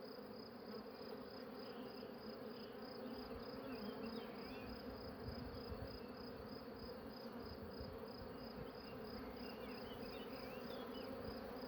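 Honeybees hum around a drone-rearing hive in a continuous, dense buzz. It is steady and fairly faint, with no talking.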